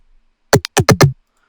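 A heavily processed Faceplant-style synth bass run through a vocal-style filter effect plays in short, choppy stabs. There are five quick, punchy hits with a formant, talk-like quality, close and loud, ending in silence.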